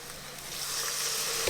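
Ground cumin, turmeric and garam masala fry in a pan with a splash of water, giving a brief, steady, close sizzle.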